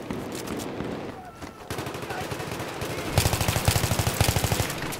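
Gunfire on the Metro map during a Battlefield 3 Conquest match, with steady rapid bursts throughout and a sharper, denser automatic volley near the end, close and loud with brief voices in the mix.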